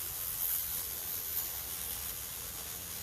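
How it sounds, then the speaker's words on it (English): Steady soft hiss of a spray bottle misting water continuously onto a Drosera plant, faint and close, with no talking. "get my little spray going."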